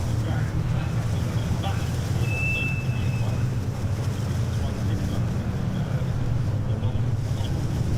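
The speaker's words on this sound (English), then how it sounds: "Certainly hear the wind blowing in the" Wind gusts across the Silverstone Grand Prix circuit during a Caterham race, a steady low rumble buffeting the microphone throughout, with a commentator talking over it.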